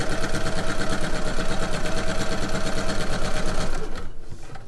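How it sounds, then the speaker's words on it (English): Steady, loud sewing machine running a straight stitch along a plain seam, a rapid even chatter that keeps going without a break and then eases off near the end. "Just sewing with a nice straight seam, straight stitch, nothing fancy here."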